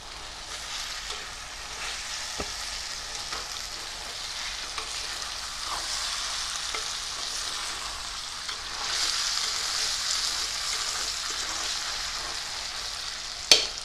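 Thin-sliced potato curry sizzles steadily in an ordinary pan that is not nonstick, with soft scraping stirs now and then and a sharper clink at the end; no voices.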